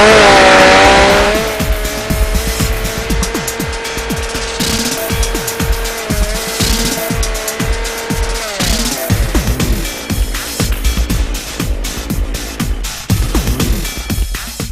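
A Lewis winch hauls an overturned van upright on its cable, making a loud, steady mechanical whine at first, then a dense run of creaks, scrapes and clattering as the vehicle rolls over.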